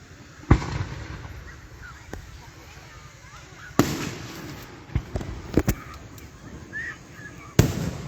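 Loud, sharp explosions from a Fourth of July fireworks show boom at scattered intervals, with crackling bursts in between and faint crowd voices in the background.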